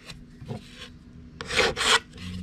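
A normal metal file rasping across a freshly cut edge of acrylic over aluminium, a few short close strokes, the last two louder and longer, with no voices.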